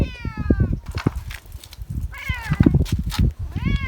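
Cats meow repeatedly in a village street, several clear rising-and-falling cries near and loud over background street noise and scattered knocks.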